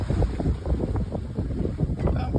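Wind roars steadily across the microphone on a sailboat at sea, sounding as a constant low buffeting rumble with no voices.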